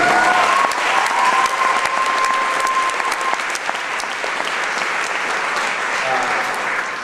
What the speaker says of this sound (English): I wish I can have from you another round of applause to the students of the Latin School of Music.